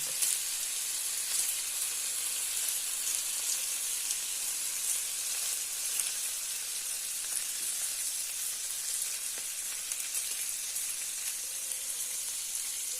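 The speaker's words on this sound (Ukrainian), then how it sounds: "підсмажую бекон тонесенький" Thin strips of bacon sizzle continuously in a frying pan, a steady crackling hiss close by with no talking.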